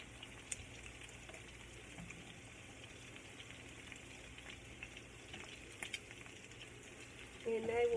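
Chicken gizzards crackle and fry in a pan with a low, steady sizzle and faint pops, quiet and close, with a brief louder clatter at the end.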